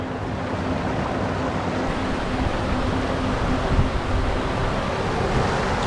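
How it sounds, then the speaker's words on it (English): Steady rushing water fills the scene, with faint irregular splashing as fruit is rinsed in a flowing stream in the Italian Alps; no voices. "Let's give it a good old wash in the water."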